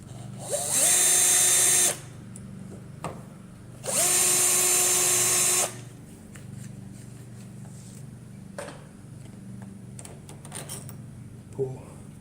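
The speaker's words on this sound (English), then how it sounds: "use an electric drill." An electric drill backing long screws out of a door deadbolt, two loud whirring bursts of about a second each that wind up in pitch, with a light clink and faint handling noises in between and after.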